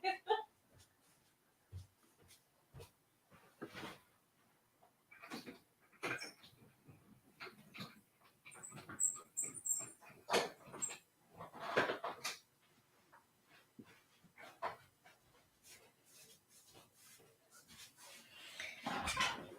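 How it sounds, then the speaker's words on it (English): A neighbor's big black Labrador barks loudly in scattered bursts heard from a distance through a house window, mixed with soft knocks and rustles in a quiet room. "the neighbor has a dog, and the dog likes to bark loudly"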